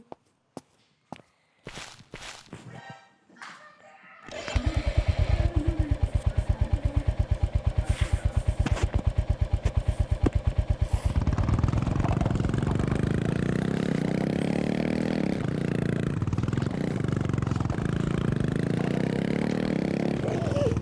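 After a few clattering knocks and scrapes, a motorcycle engine starts and idles with a rapid, even pulsing, then revs up into a louder, smoother drone that rises and falls.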